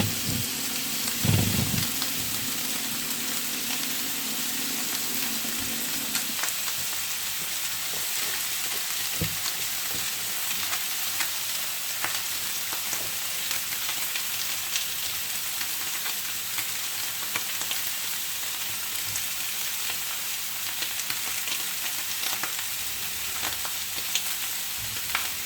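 A veal chop sears in a hot pan with a loud, continuous crackling sizzle that carries on steadily throughout, close by and without talking.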